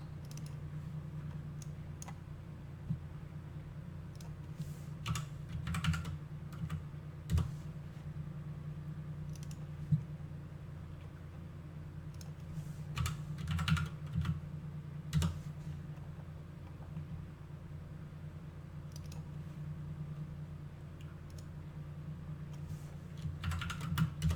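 Steady computer keyboard typing and clicking while default values are edited in Unreal Engine 4, a continuous run of close, light keystrokes with small irregular bursts over a constant low hum.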